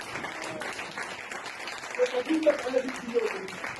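A church congregation claps in praise during a service, a close, steady wash of applause that swells and pulses with rhythmic peaks. Voices and a few sung or shouted tones sound through it.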